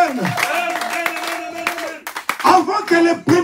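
A church congregation claps and applauds in a burst over a pastor's sustained voice, the clapping growing denser and louder toward the end.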